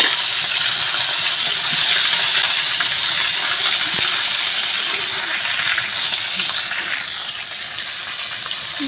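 Fish frying in hot oil in a pan over a clay stove in a village kitchen: a steady, loud, hissing sizzle running unbroken throughout, with no voices.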